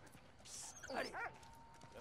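A dog in the Valiant Hearts video game gives a couple of short yips and a whimpering bark, faint and brief over quiet game ambience.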